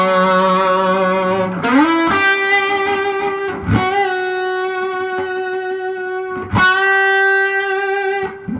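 Sustained electric guitar notes through an MXR Timmy overdrive pedal with a warm overdriven tone, a few slides and picked chords ringing out loudly, no voices.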